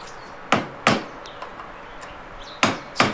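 Metal lock tabs bent over with sharp tool strikes while reassembling a 1996–2000 Honda Civic A4RA transaxle, with four loud, close hits in two pairs, separated by fainter taps and workshop quiet.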